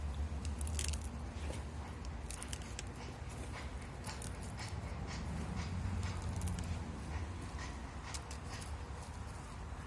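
Clay pebbles poured and mixed into a cactus and succulent soil mix, giving a steady gritty crunching and rattling that stays close and fairly loud throughout, with no talk.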